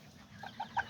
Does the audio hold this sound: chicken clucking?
yes